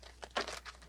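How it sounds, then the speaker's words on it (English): A deck of playing cards is shuffled during a tarot-style reading, giving a short, quiet crinkly riffle with a few soft papery bursts. "I'll shuffle, do my crazy weird thing."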